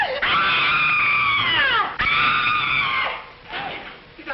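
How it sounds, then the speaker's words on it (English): A person screams loudly in a 1939 American comedy horror film, two long sustained wavering shrieks, the second breaking off and trailing into fainter cries, with no other sound under them. "Did I hear somebody scream?"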